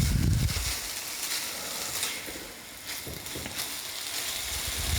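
Lamb pieces frying for a massaman curry hiss and sizzle steadily in a hot pan, a close, continuous crackle with occasional stirring surges and no talking.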